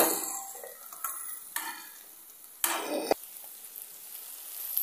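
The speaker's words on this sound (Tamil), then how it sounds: "கொஞ்சம் இது நல்லா வதங்கணும்." Brinjal and chillies sauté in a pan, giving a soft sizzle broken by a few scraping stirs and clinks of a spoon, fairly close but quiet, with no talking.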